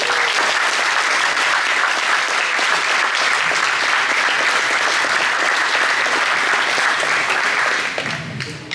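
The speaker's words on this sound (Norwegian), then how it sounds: "Gi en varm applaus til Pelle K." Warm, sustained applause from a Retromessa audience greeting Pelle K, dense and steady clapping filling the room for about eight seconds before tapering off at the end.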